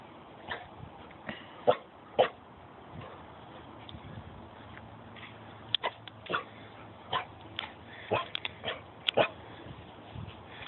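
A dog, frightened by a statue, gives scattered short barks, yips and whimpers at uneven intervals. The calls are fairly faint and sit over a steady background hiss.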